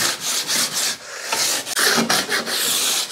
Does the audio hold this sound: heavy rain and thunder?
no